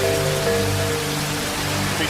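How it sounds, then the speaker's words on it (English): Torrential rain pours down on a skyscraper construction site in New York, a loud, dense, unbroken hiss of downpour with a faint low tonal hum running beneath it. "A torrential downpour, which would one day fuel the building's water reclamation system, now forces most of the construction to a screeching halt"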